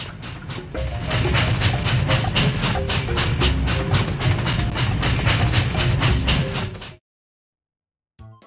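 A train sound effect for a toy train plays as a steady, fast clickety-clack of wheels over rail joints, loud and continuous for about seven seconds before cutting off abruptly, followed by a short burst of another sound.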